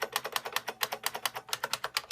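Rapid, steady keystrokes on a Unicomp Classic 101-key buckling-spring keyboard, each press a sharp, close clack in an even rhythm with no voices.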